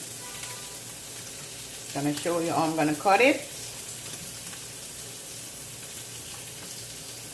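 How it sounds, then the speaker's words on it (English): Bacon sizzles in a frying pan, a constant close crackling hiss that runs under the whole stretch while someone talks briefly in the middle. "Bacon is still frying."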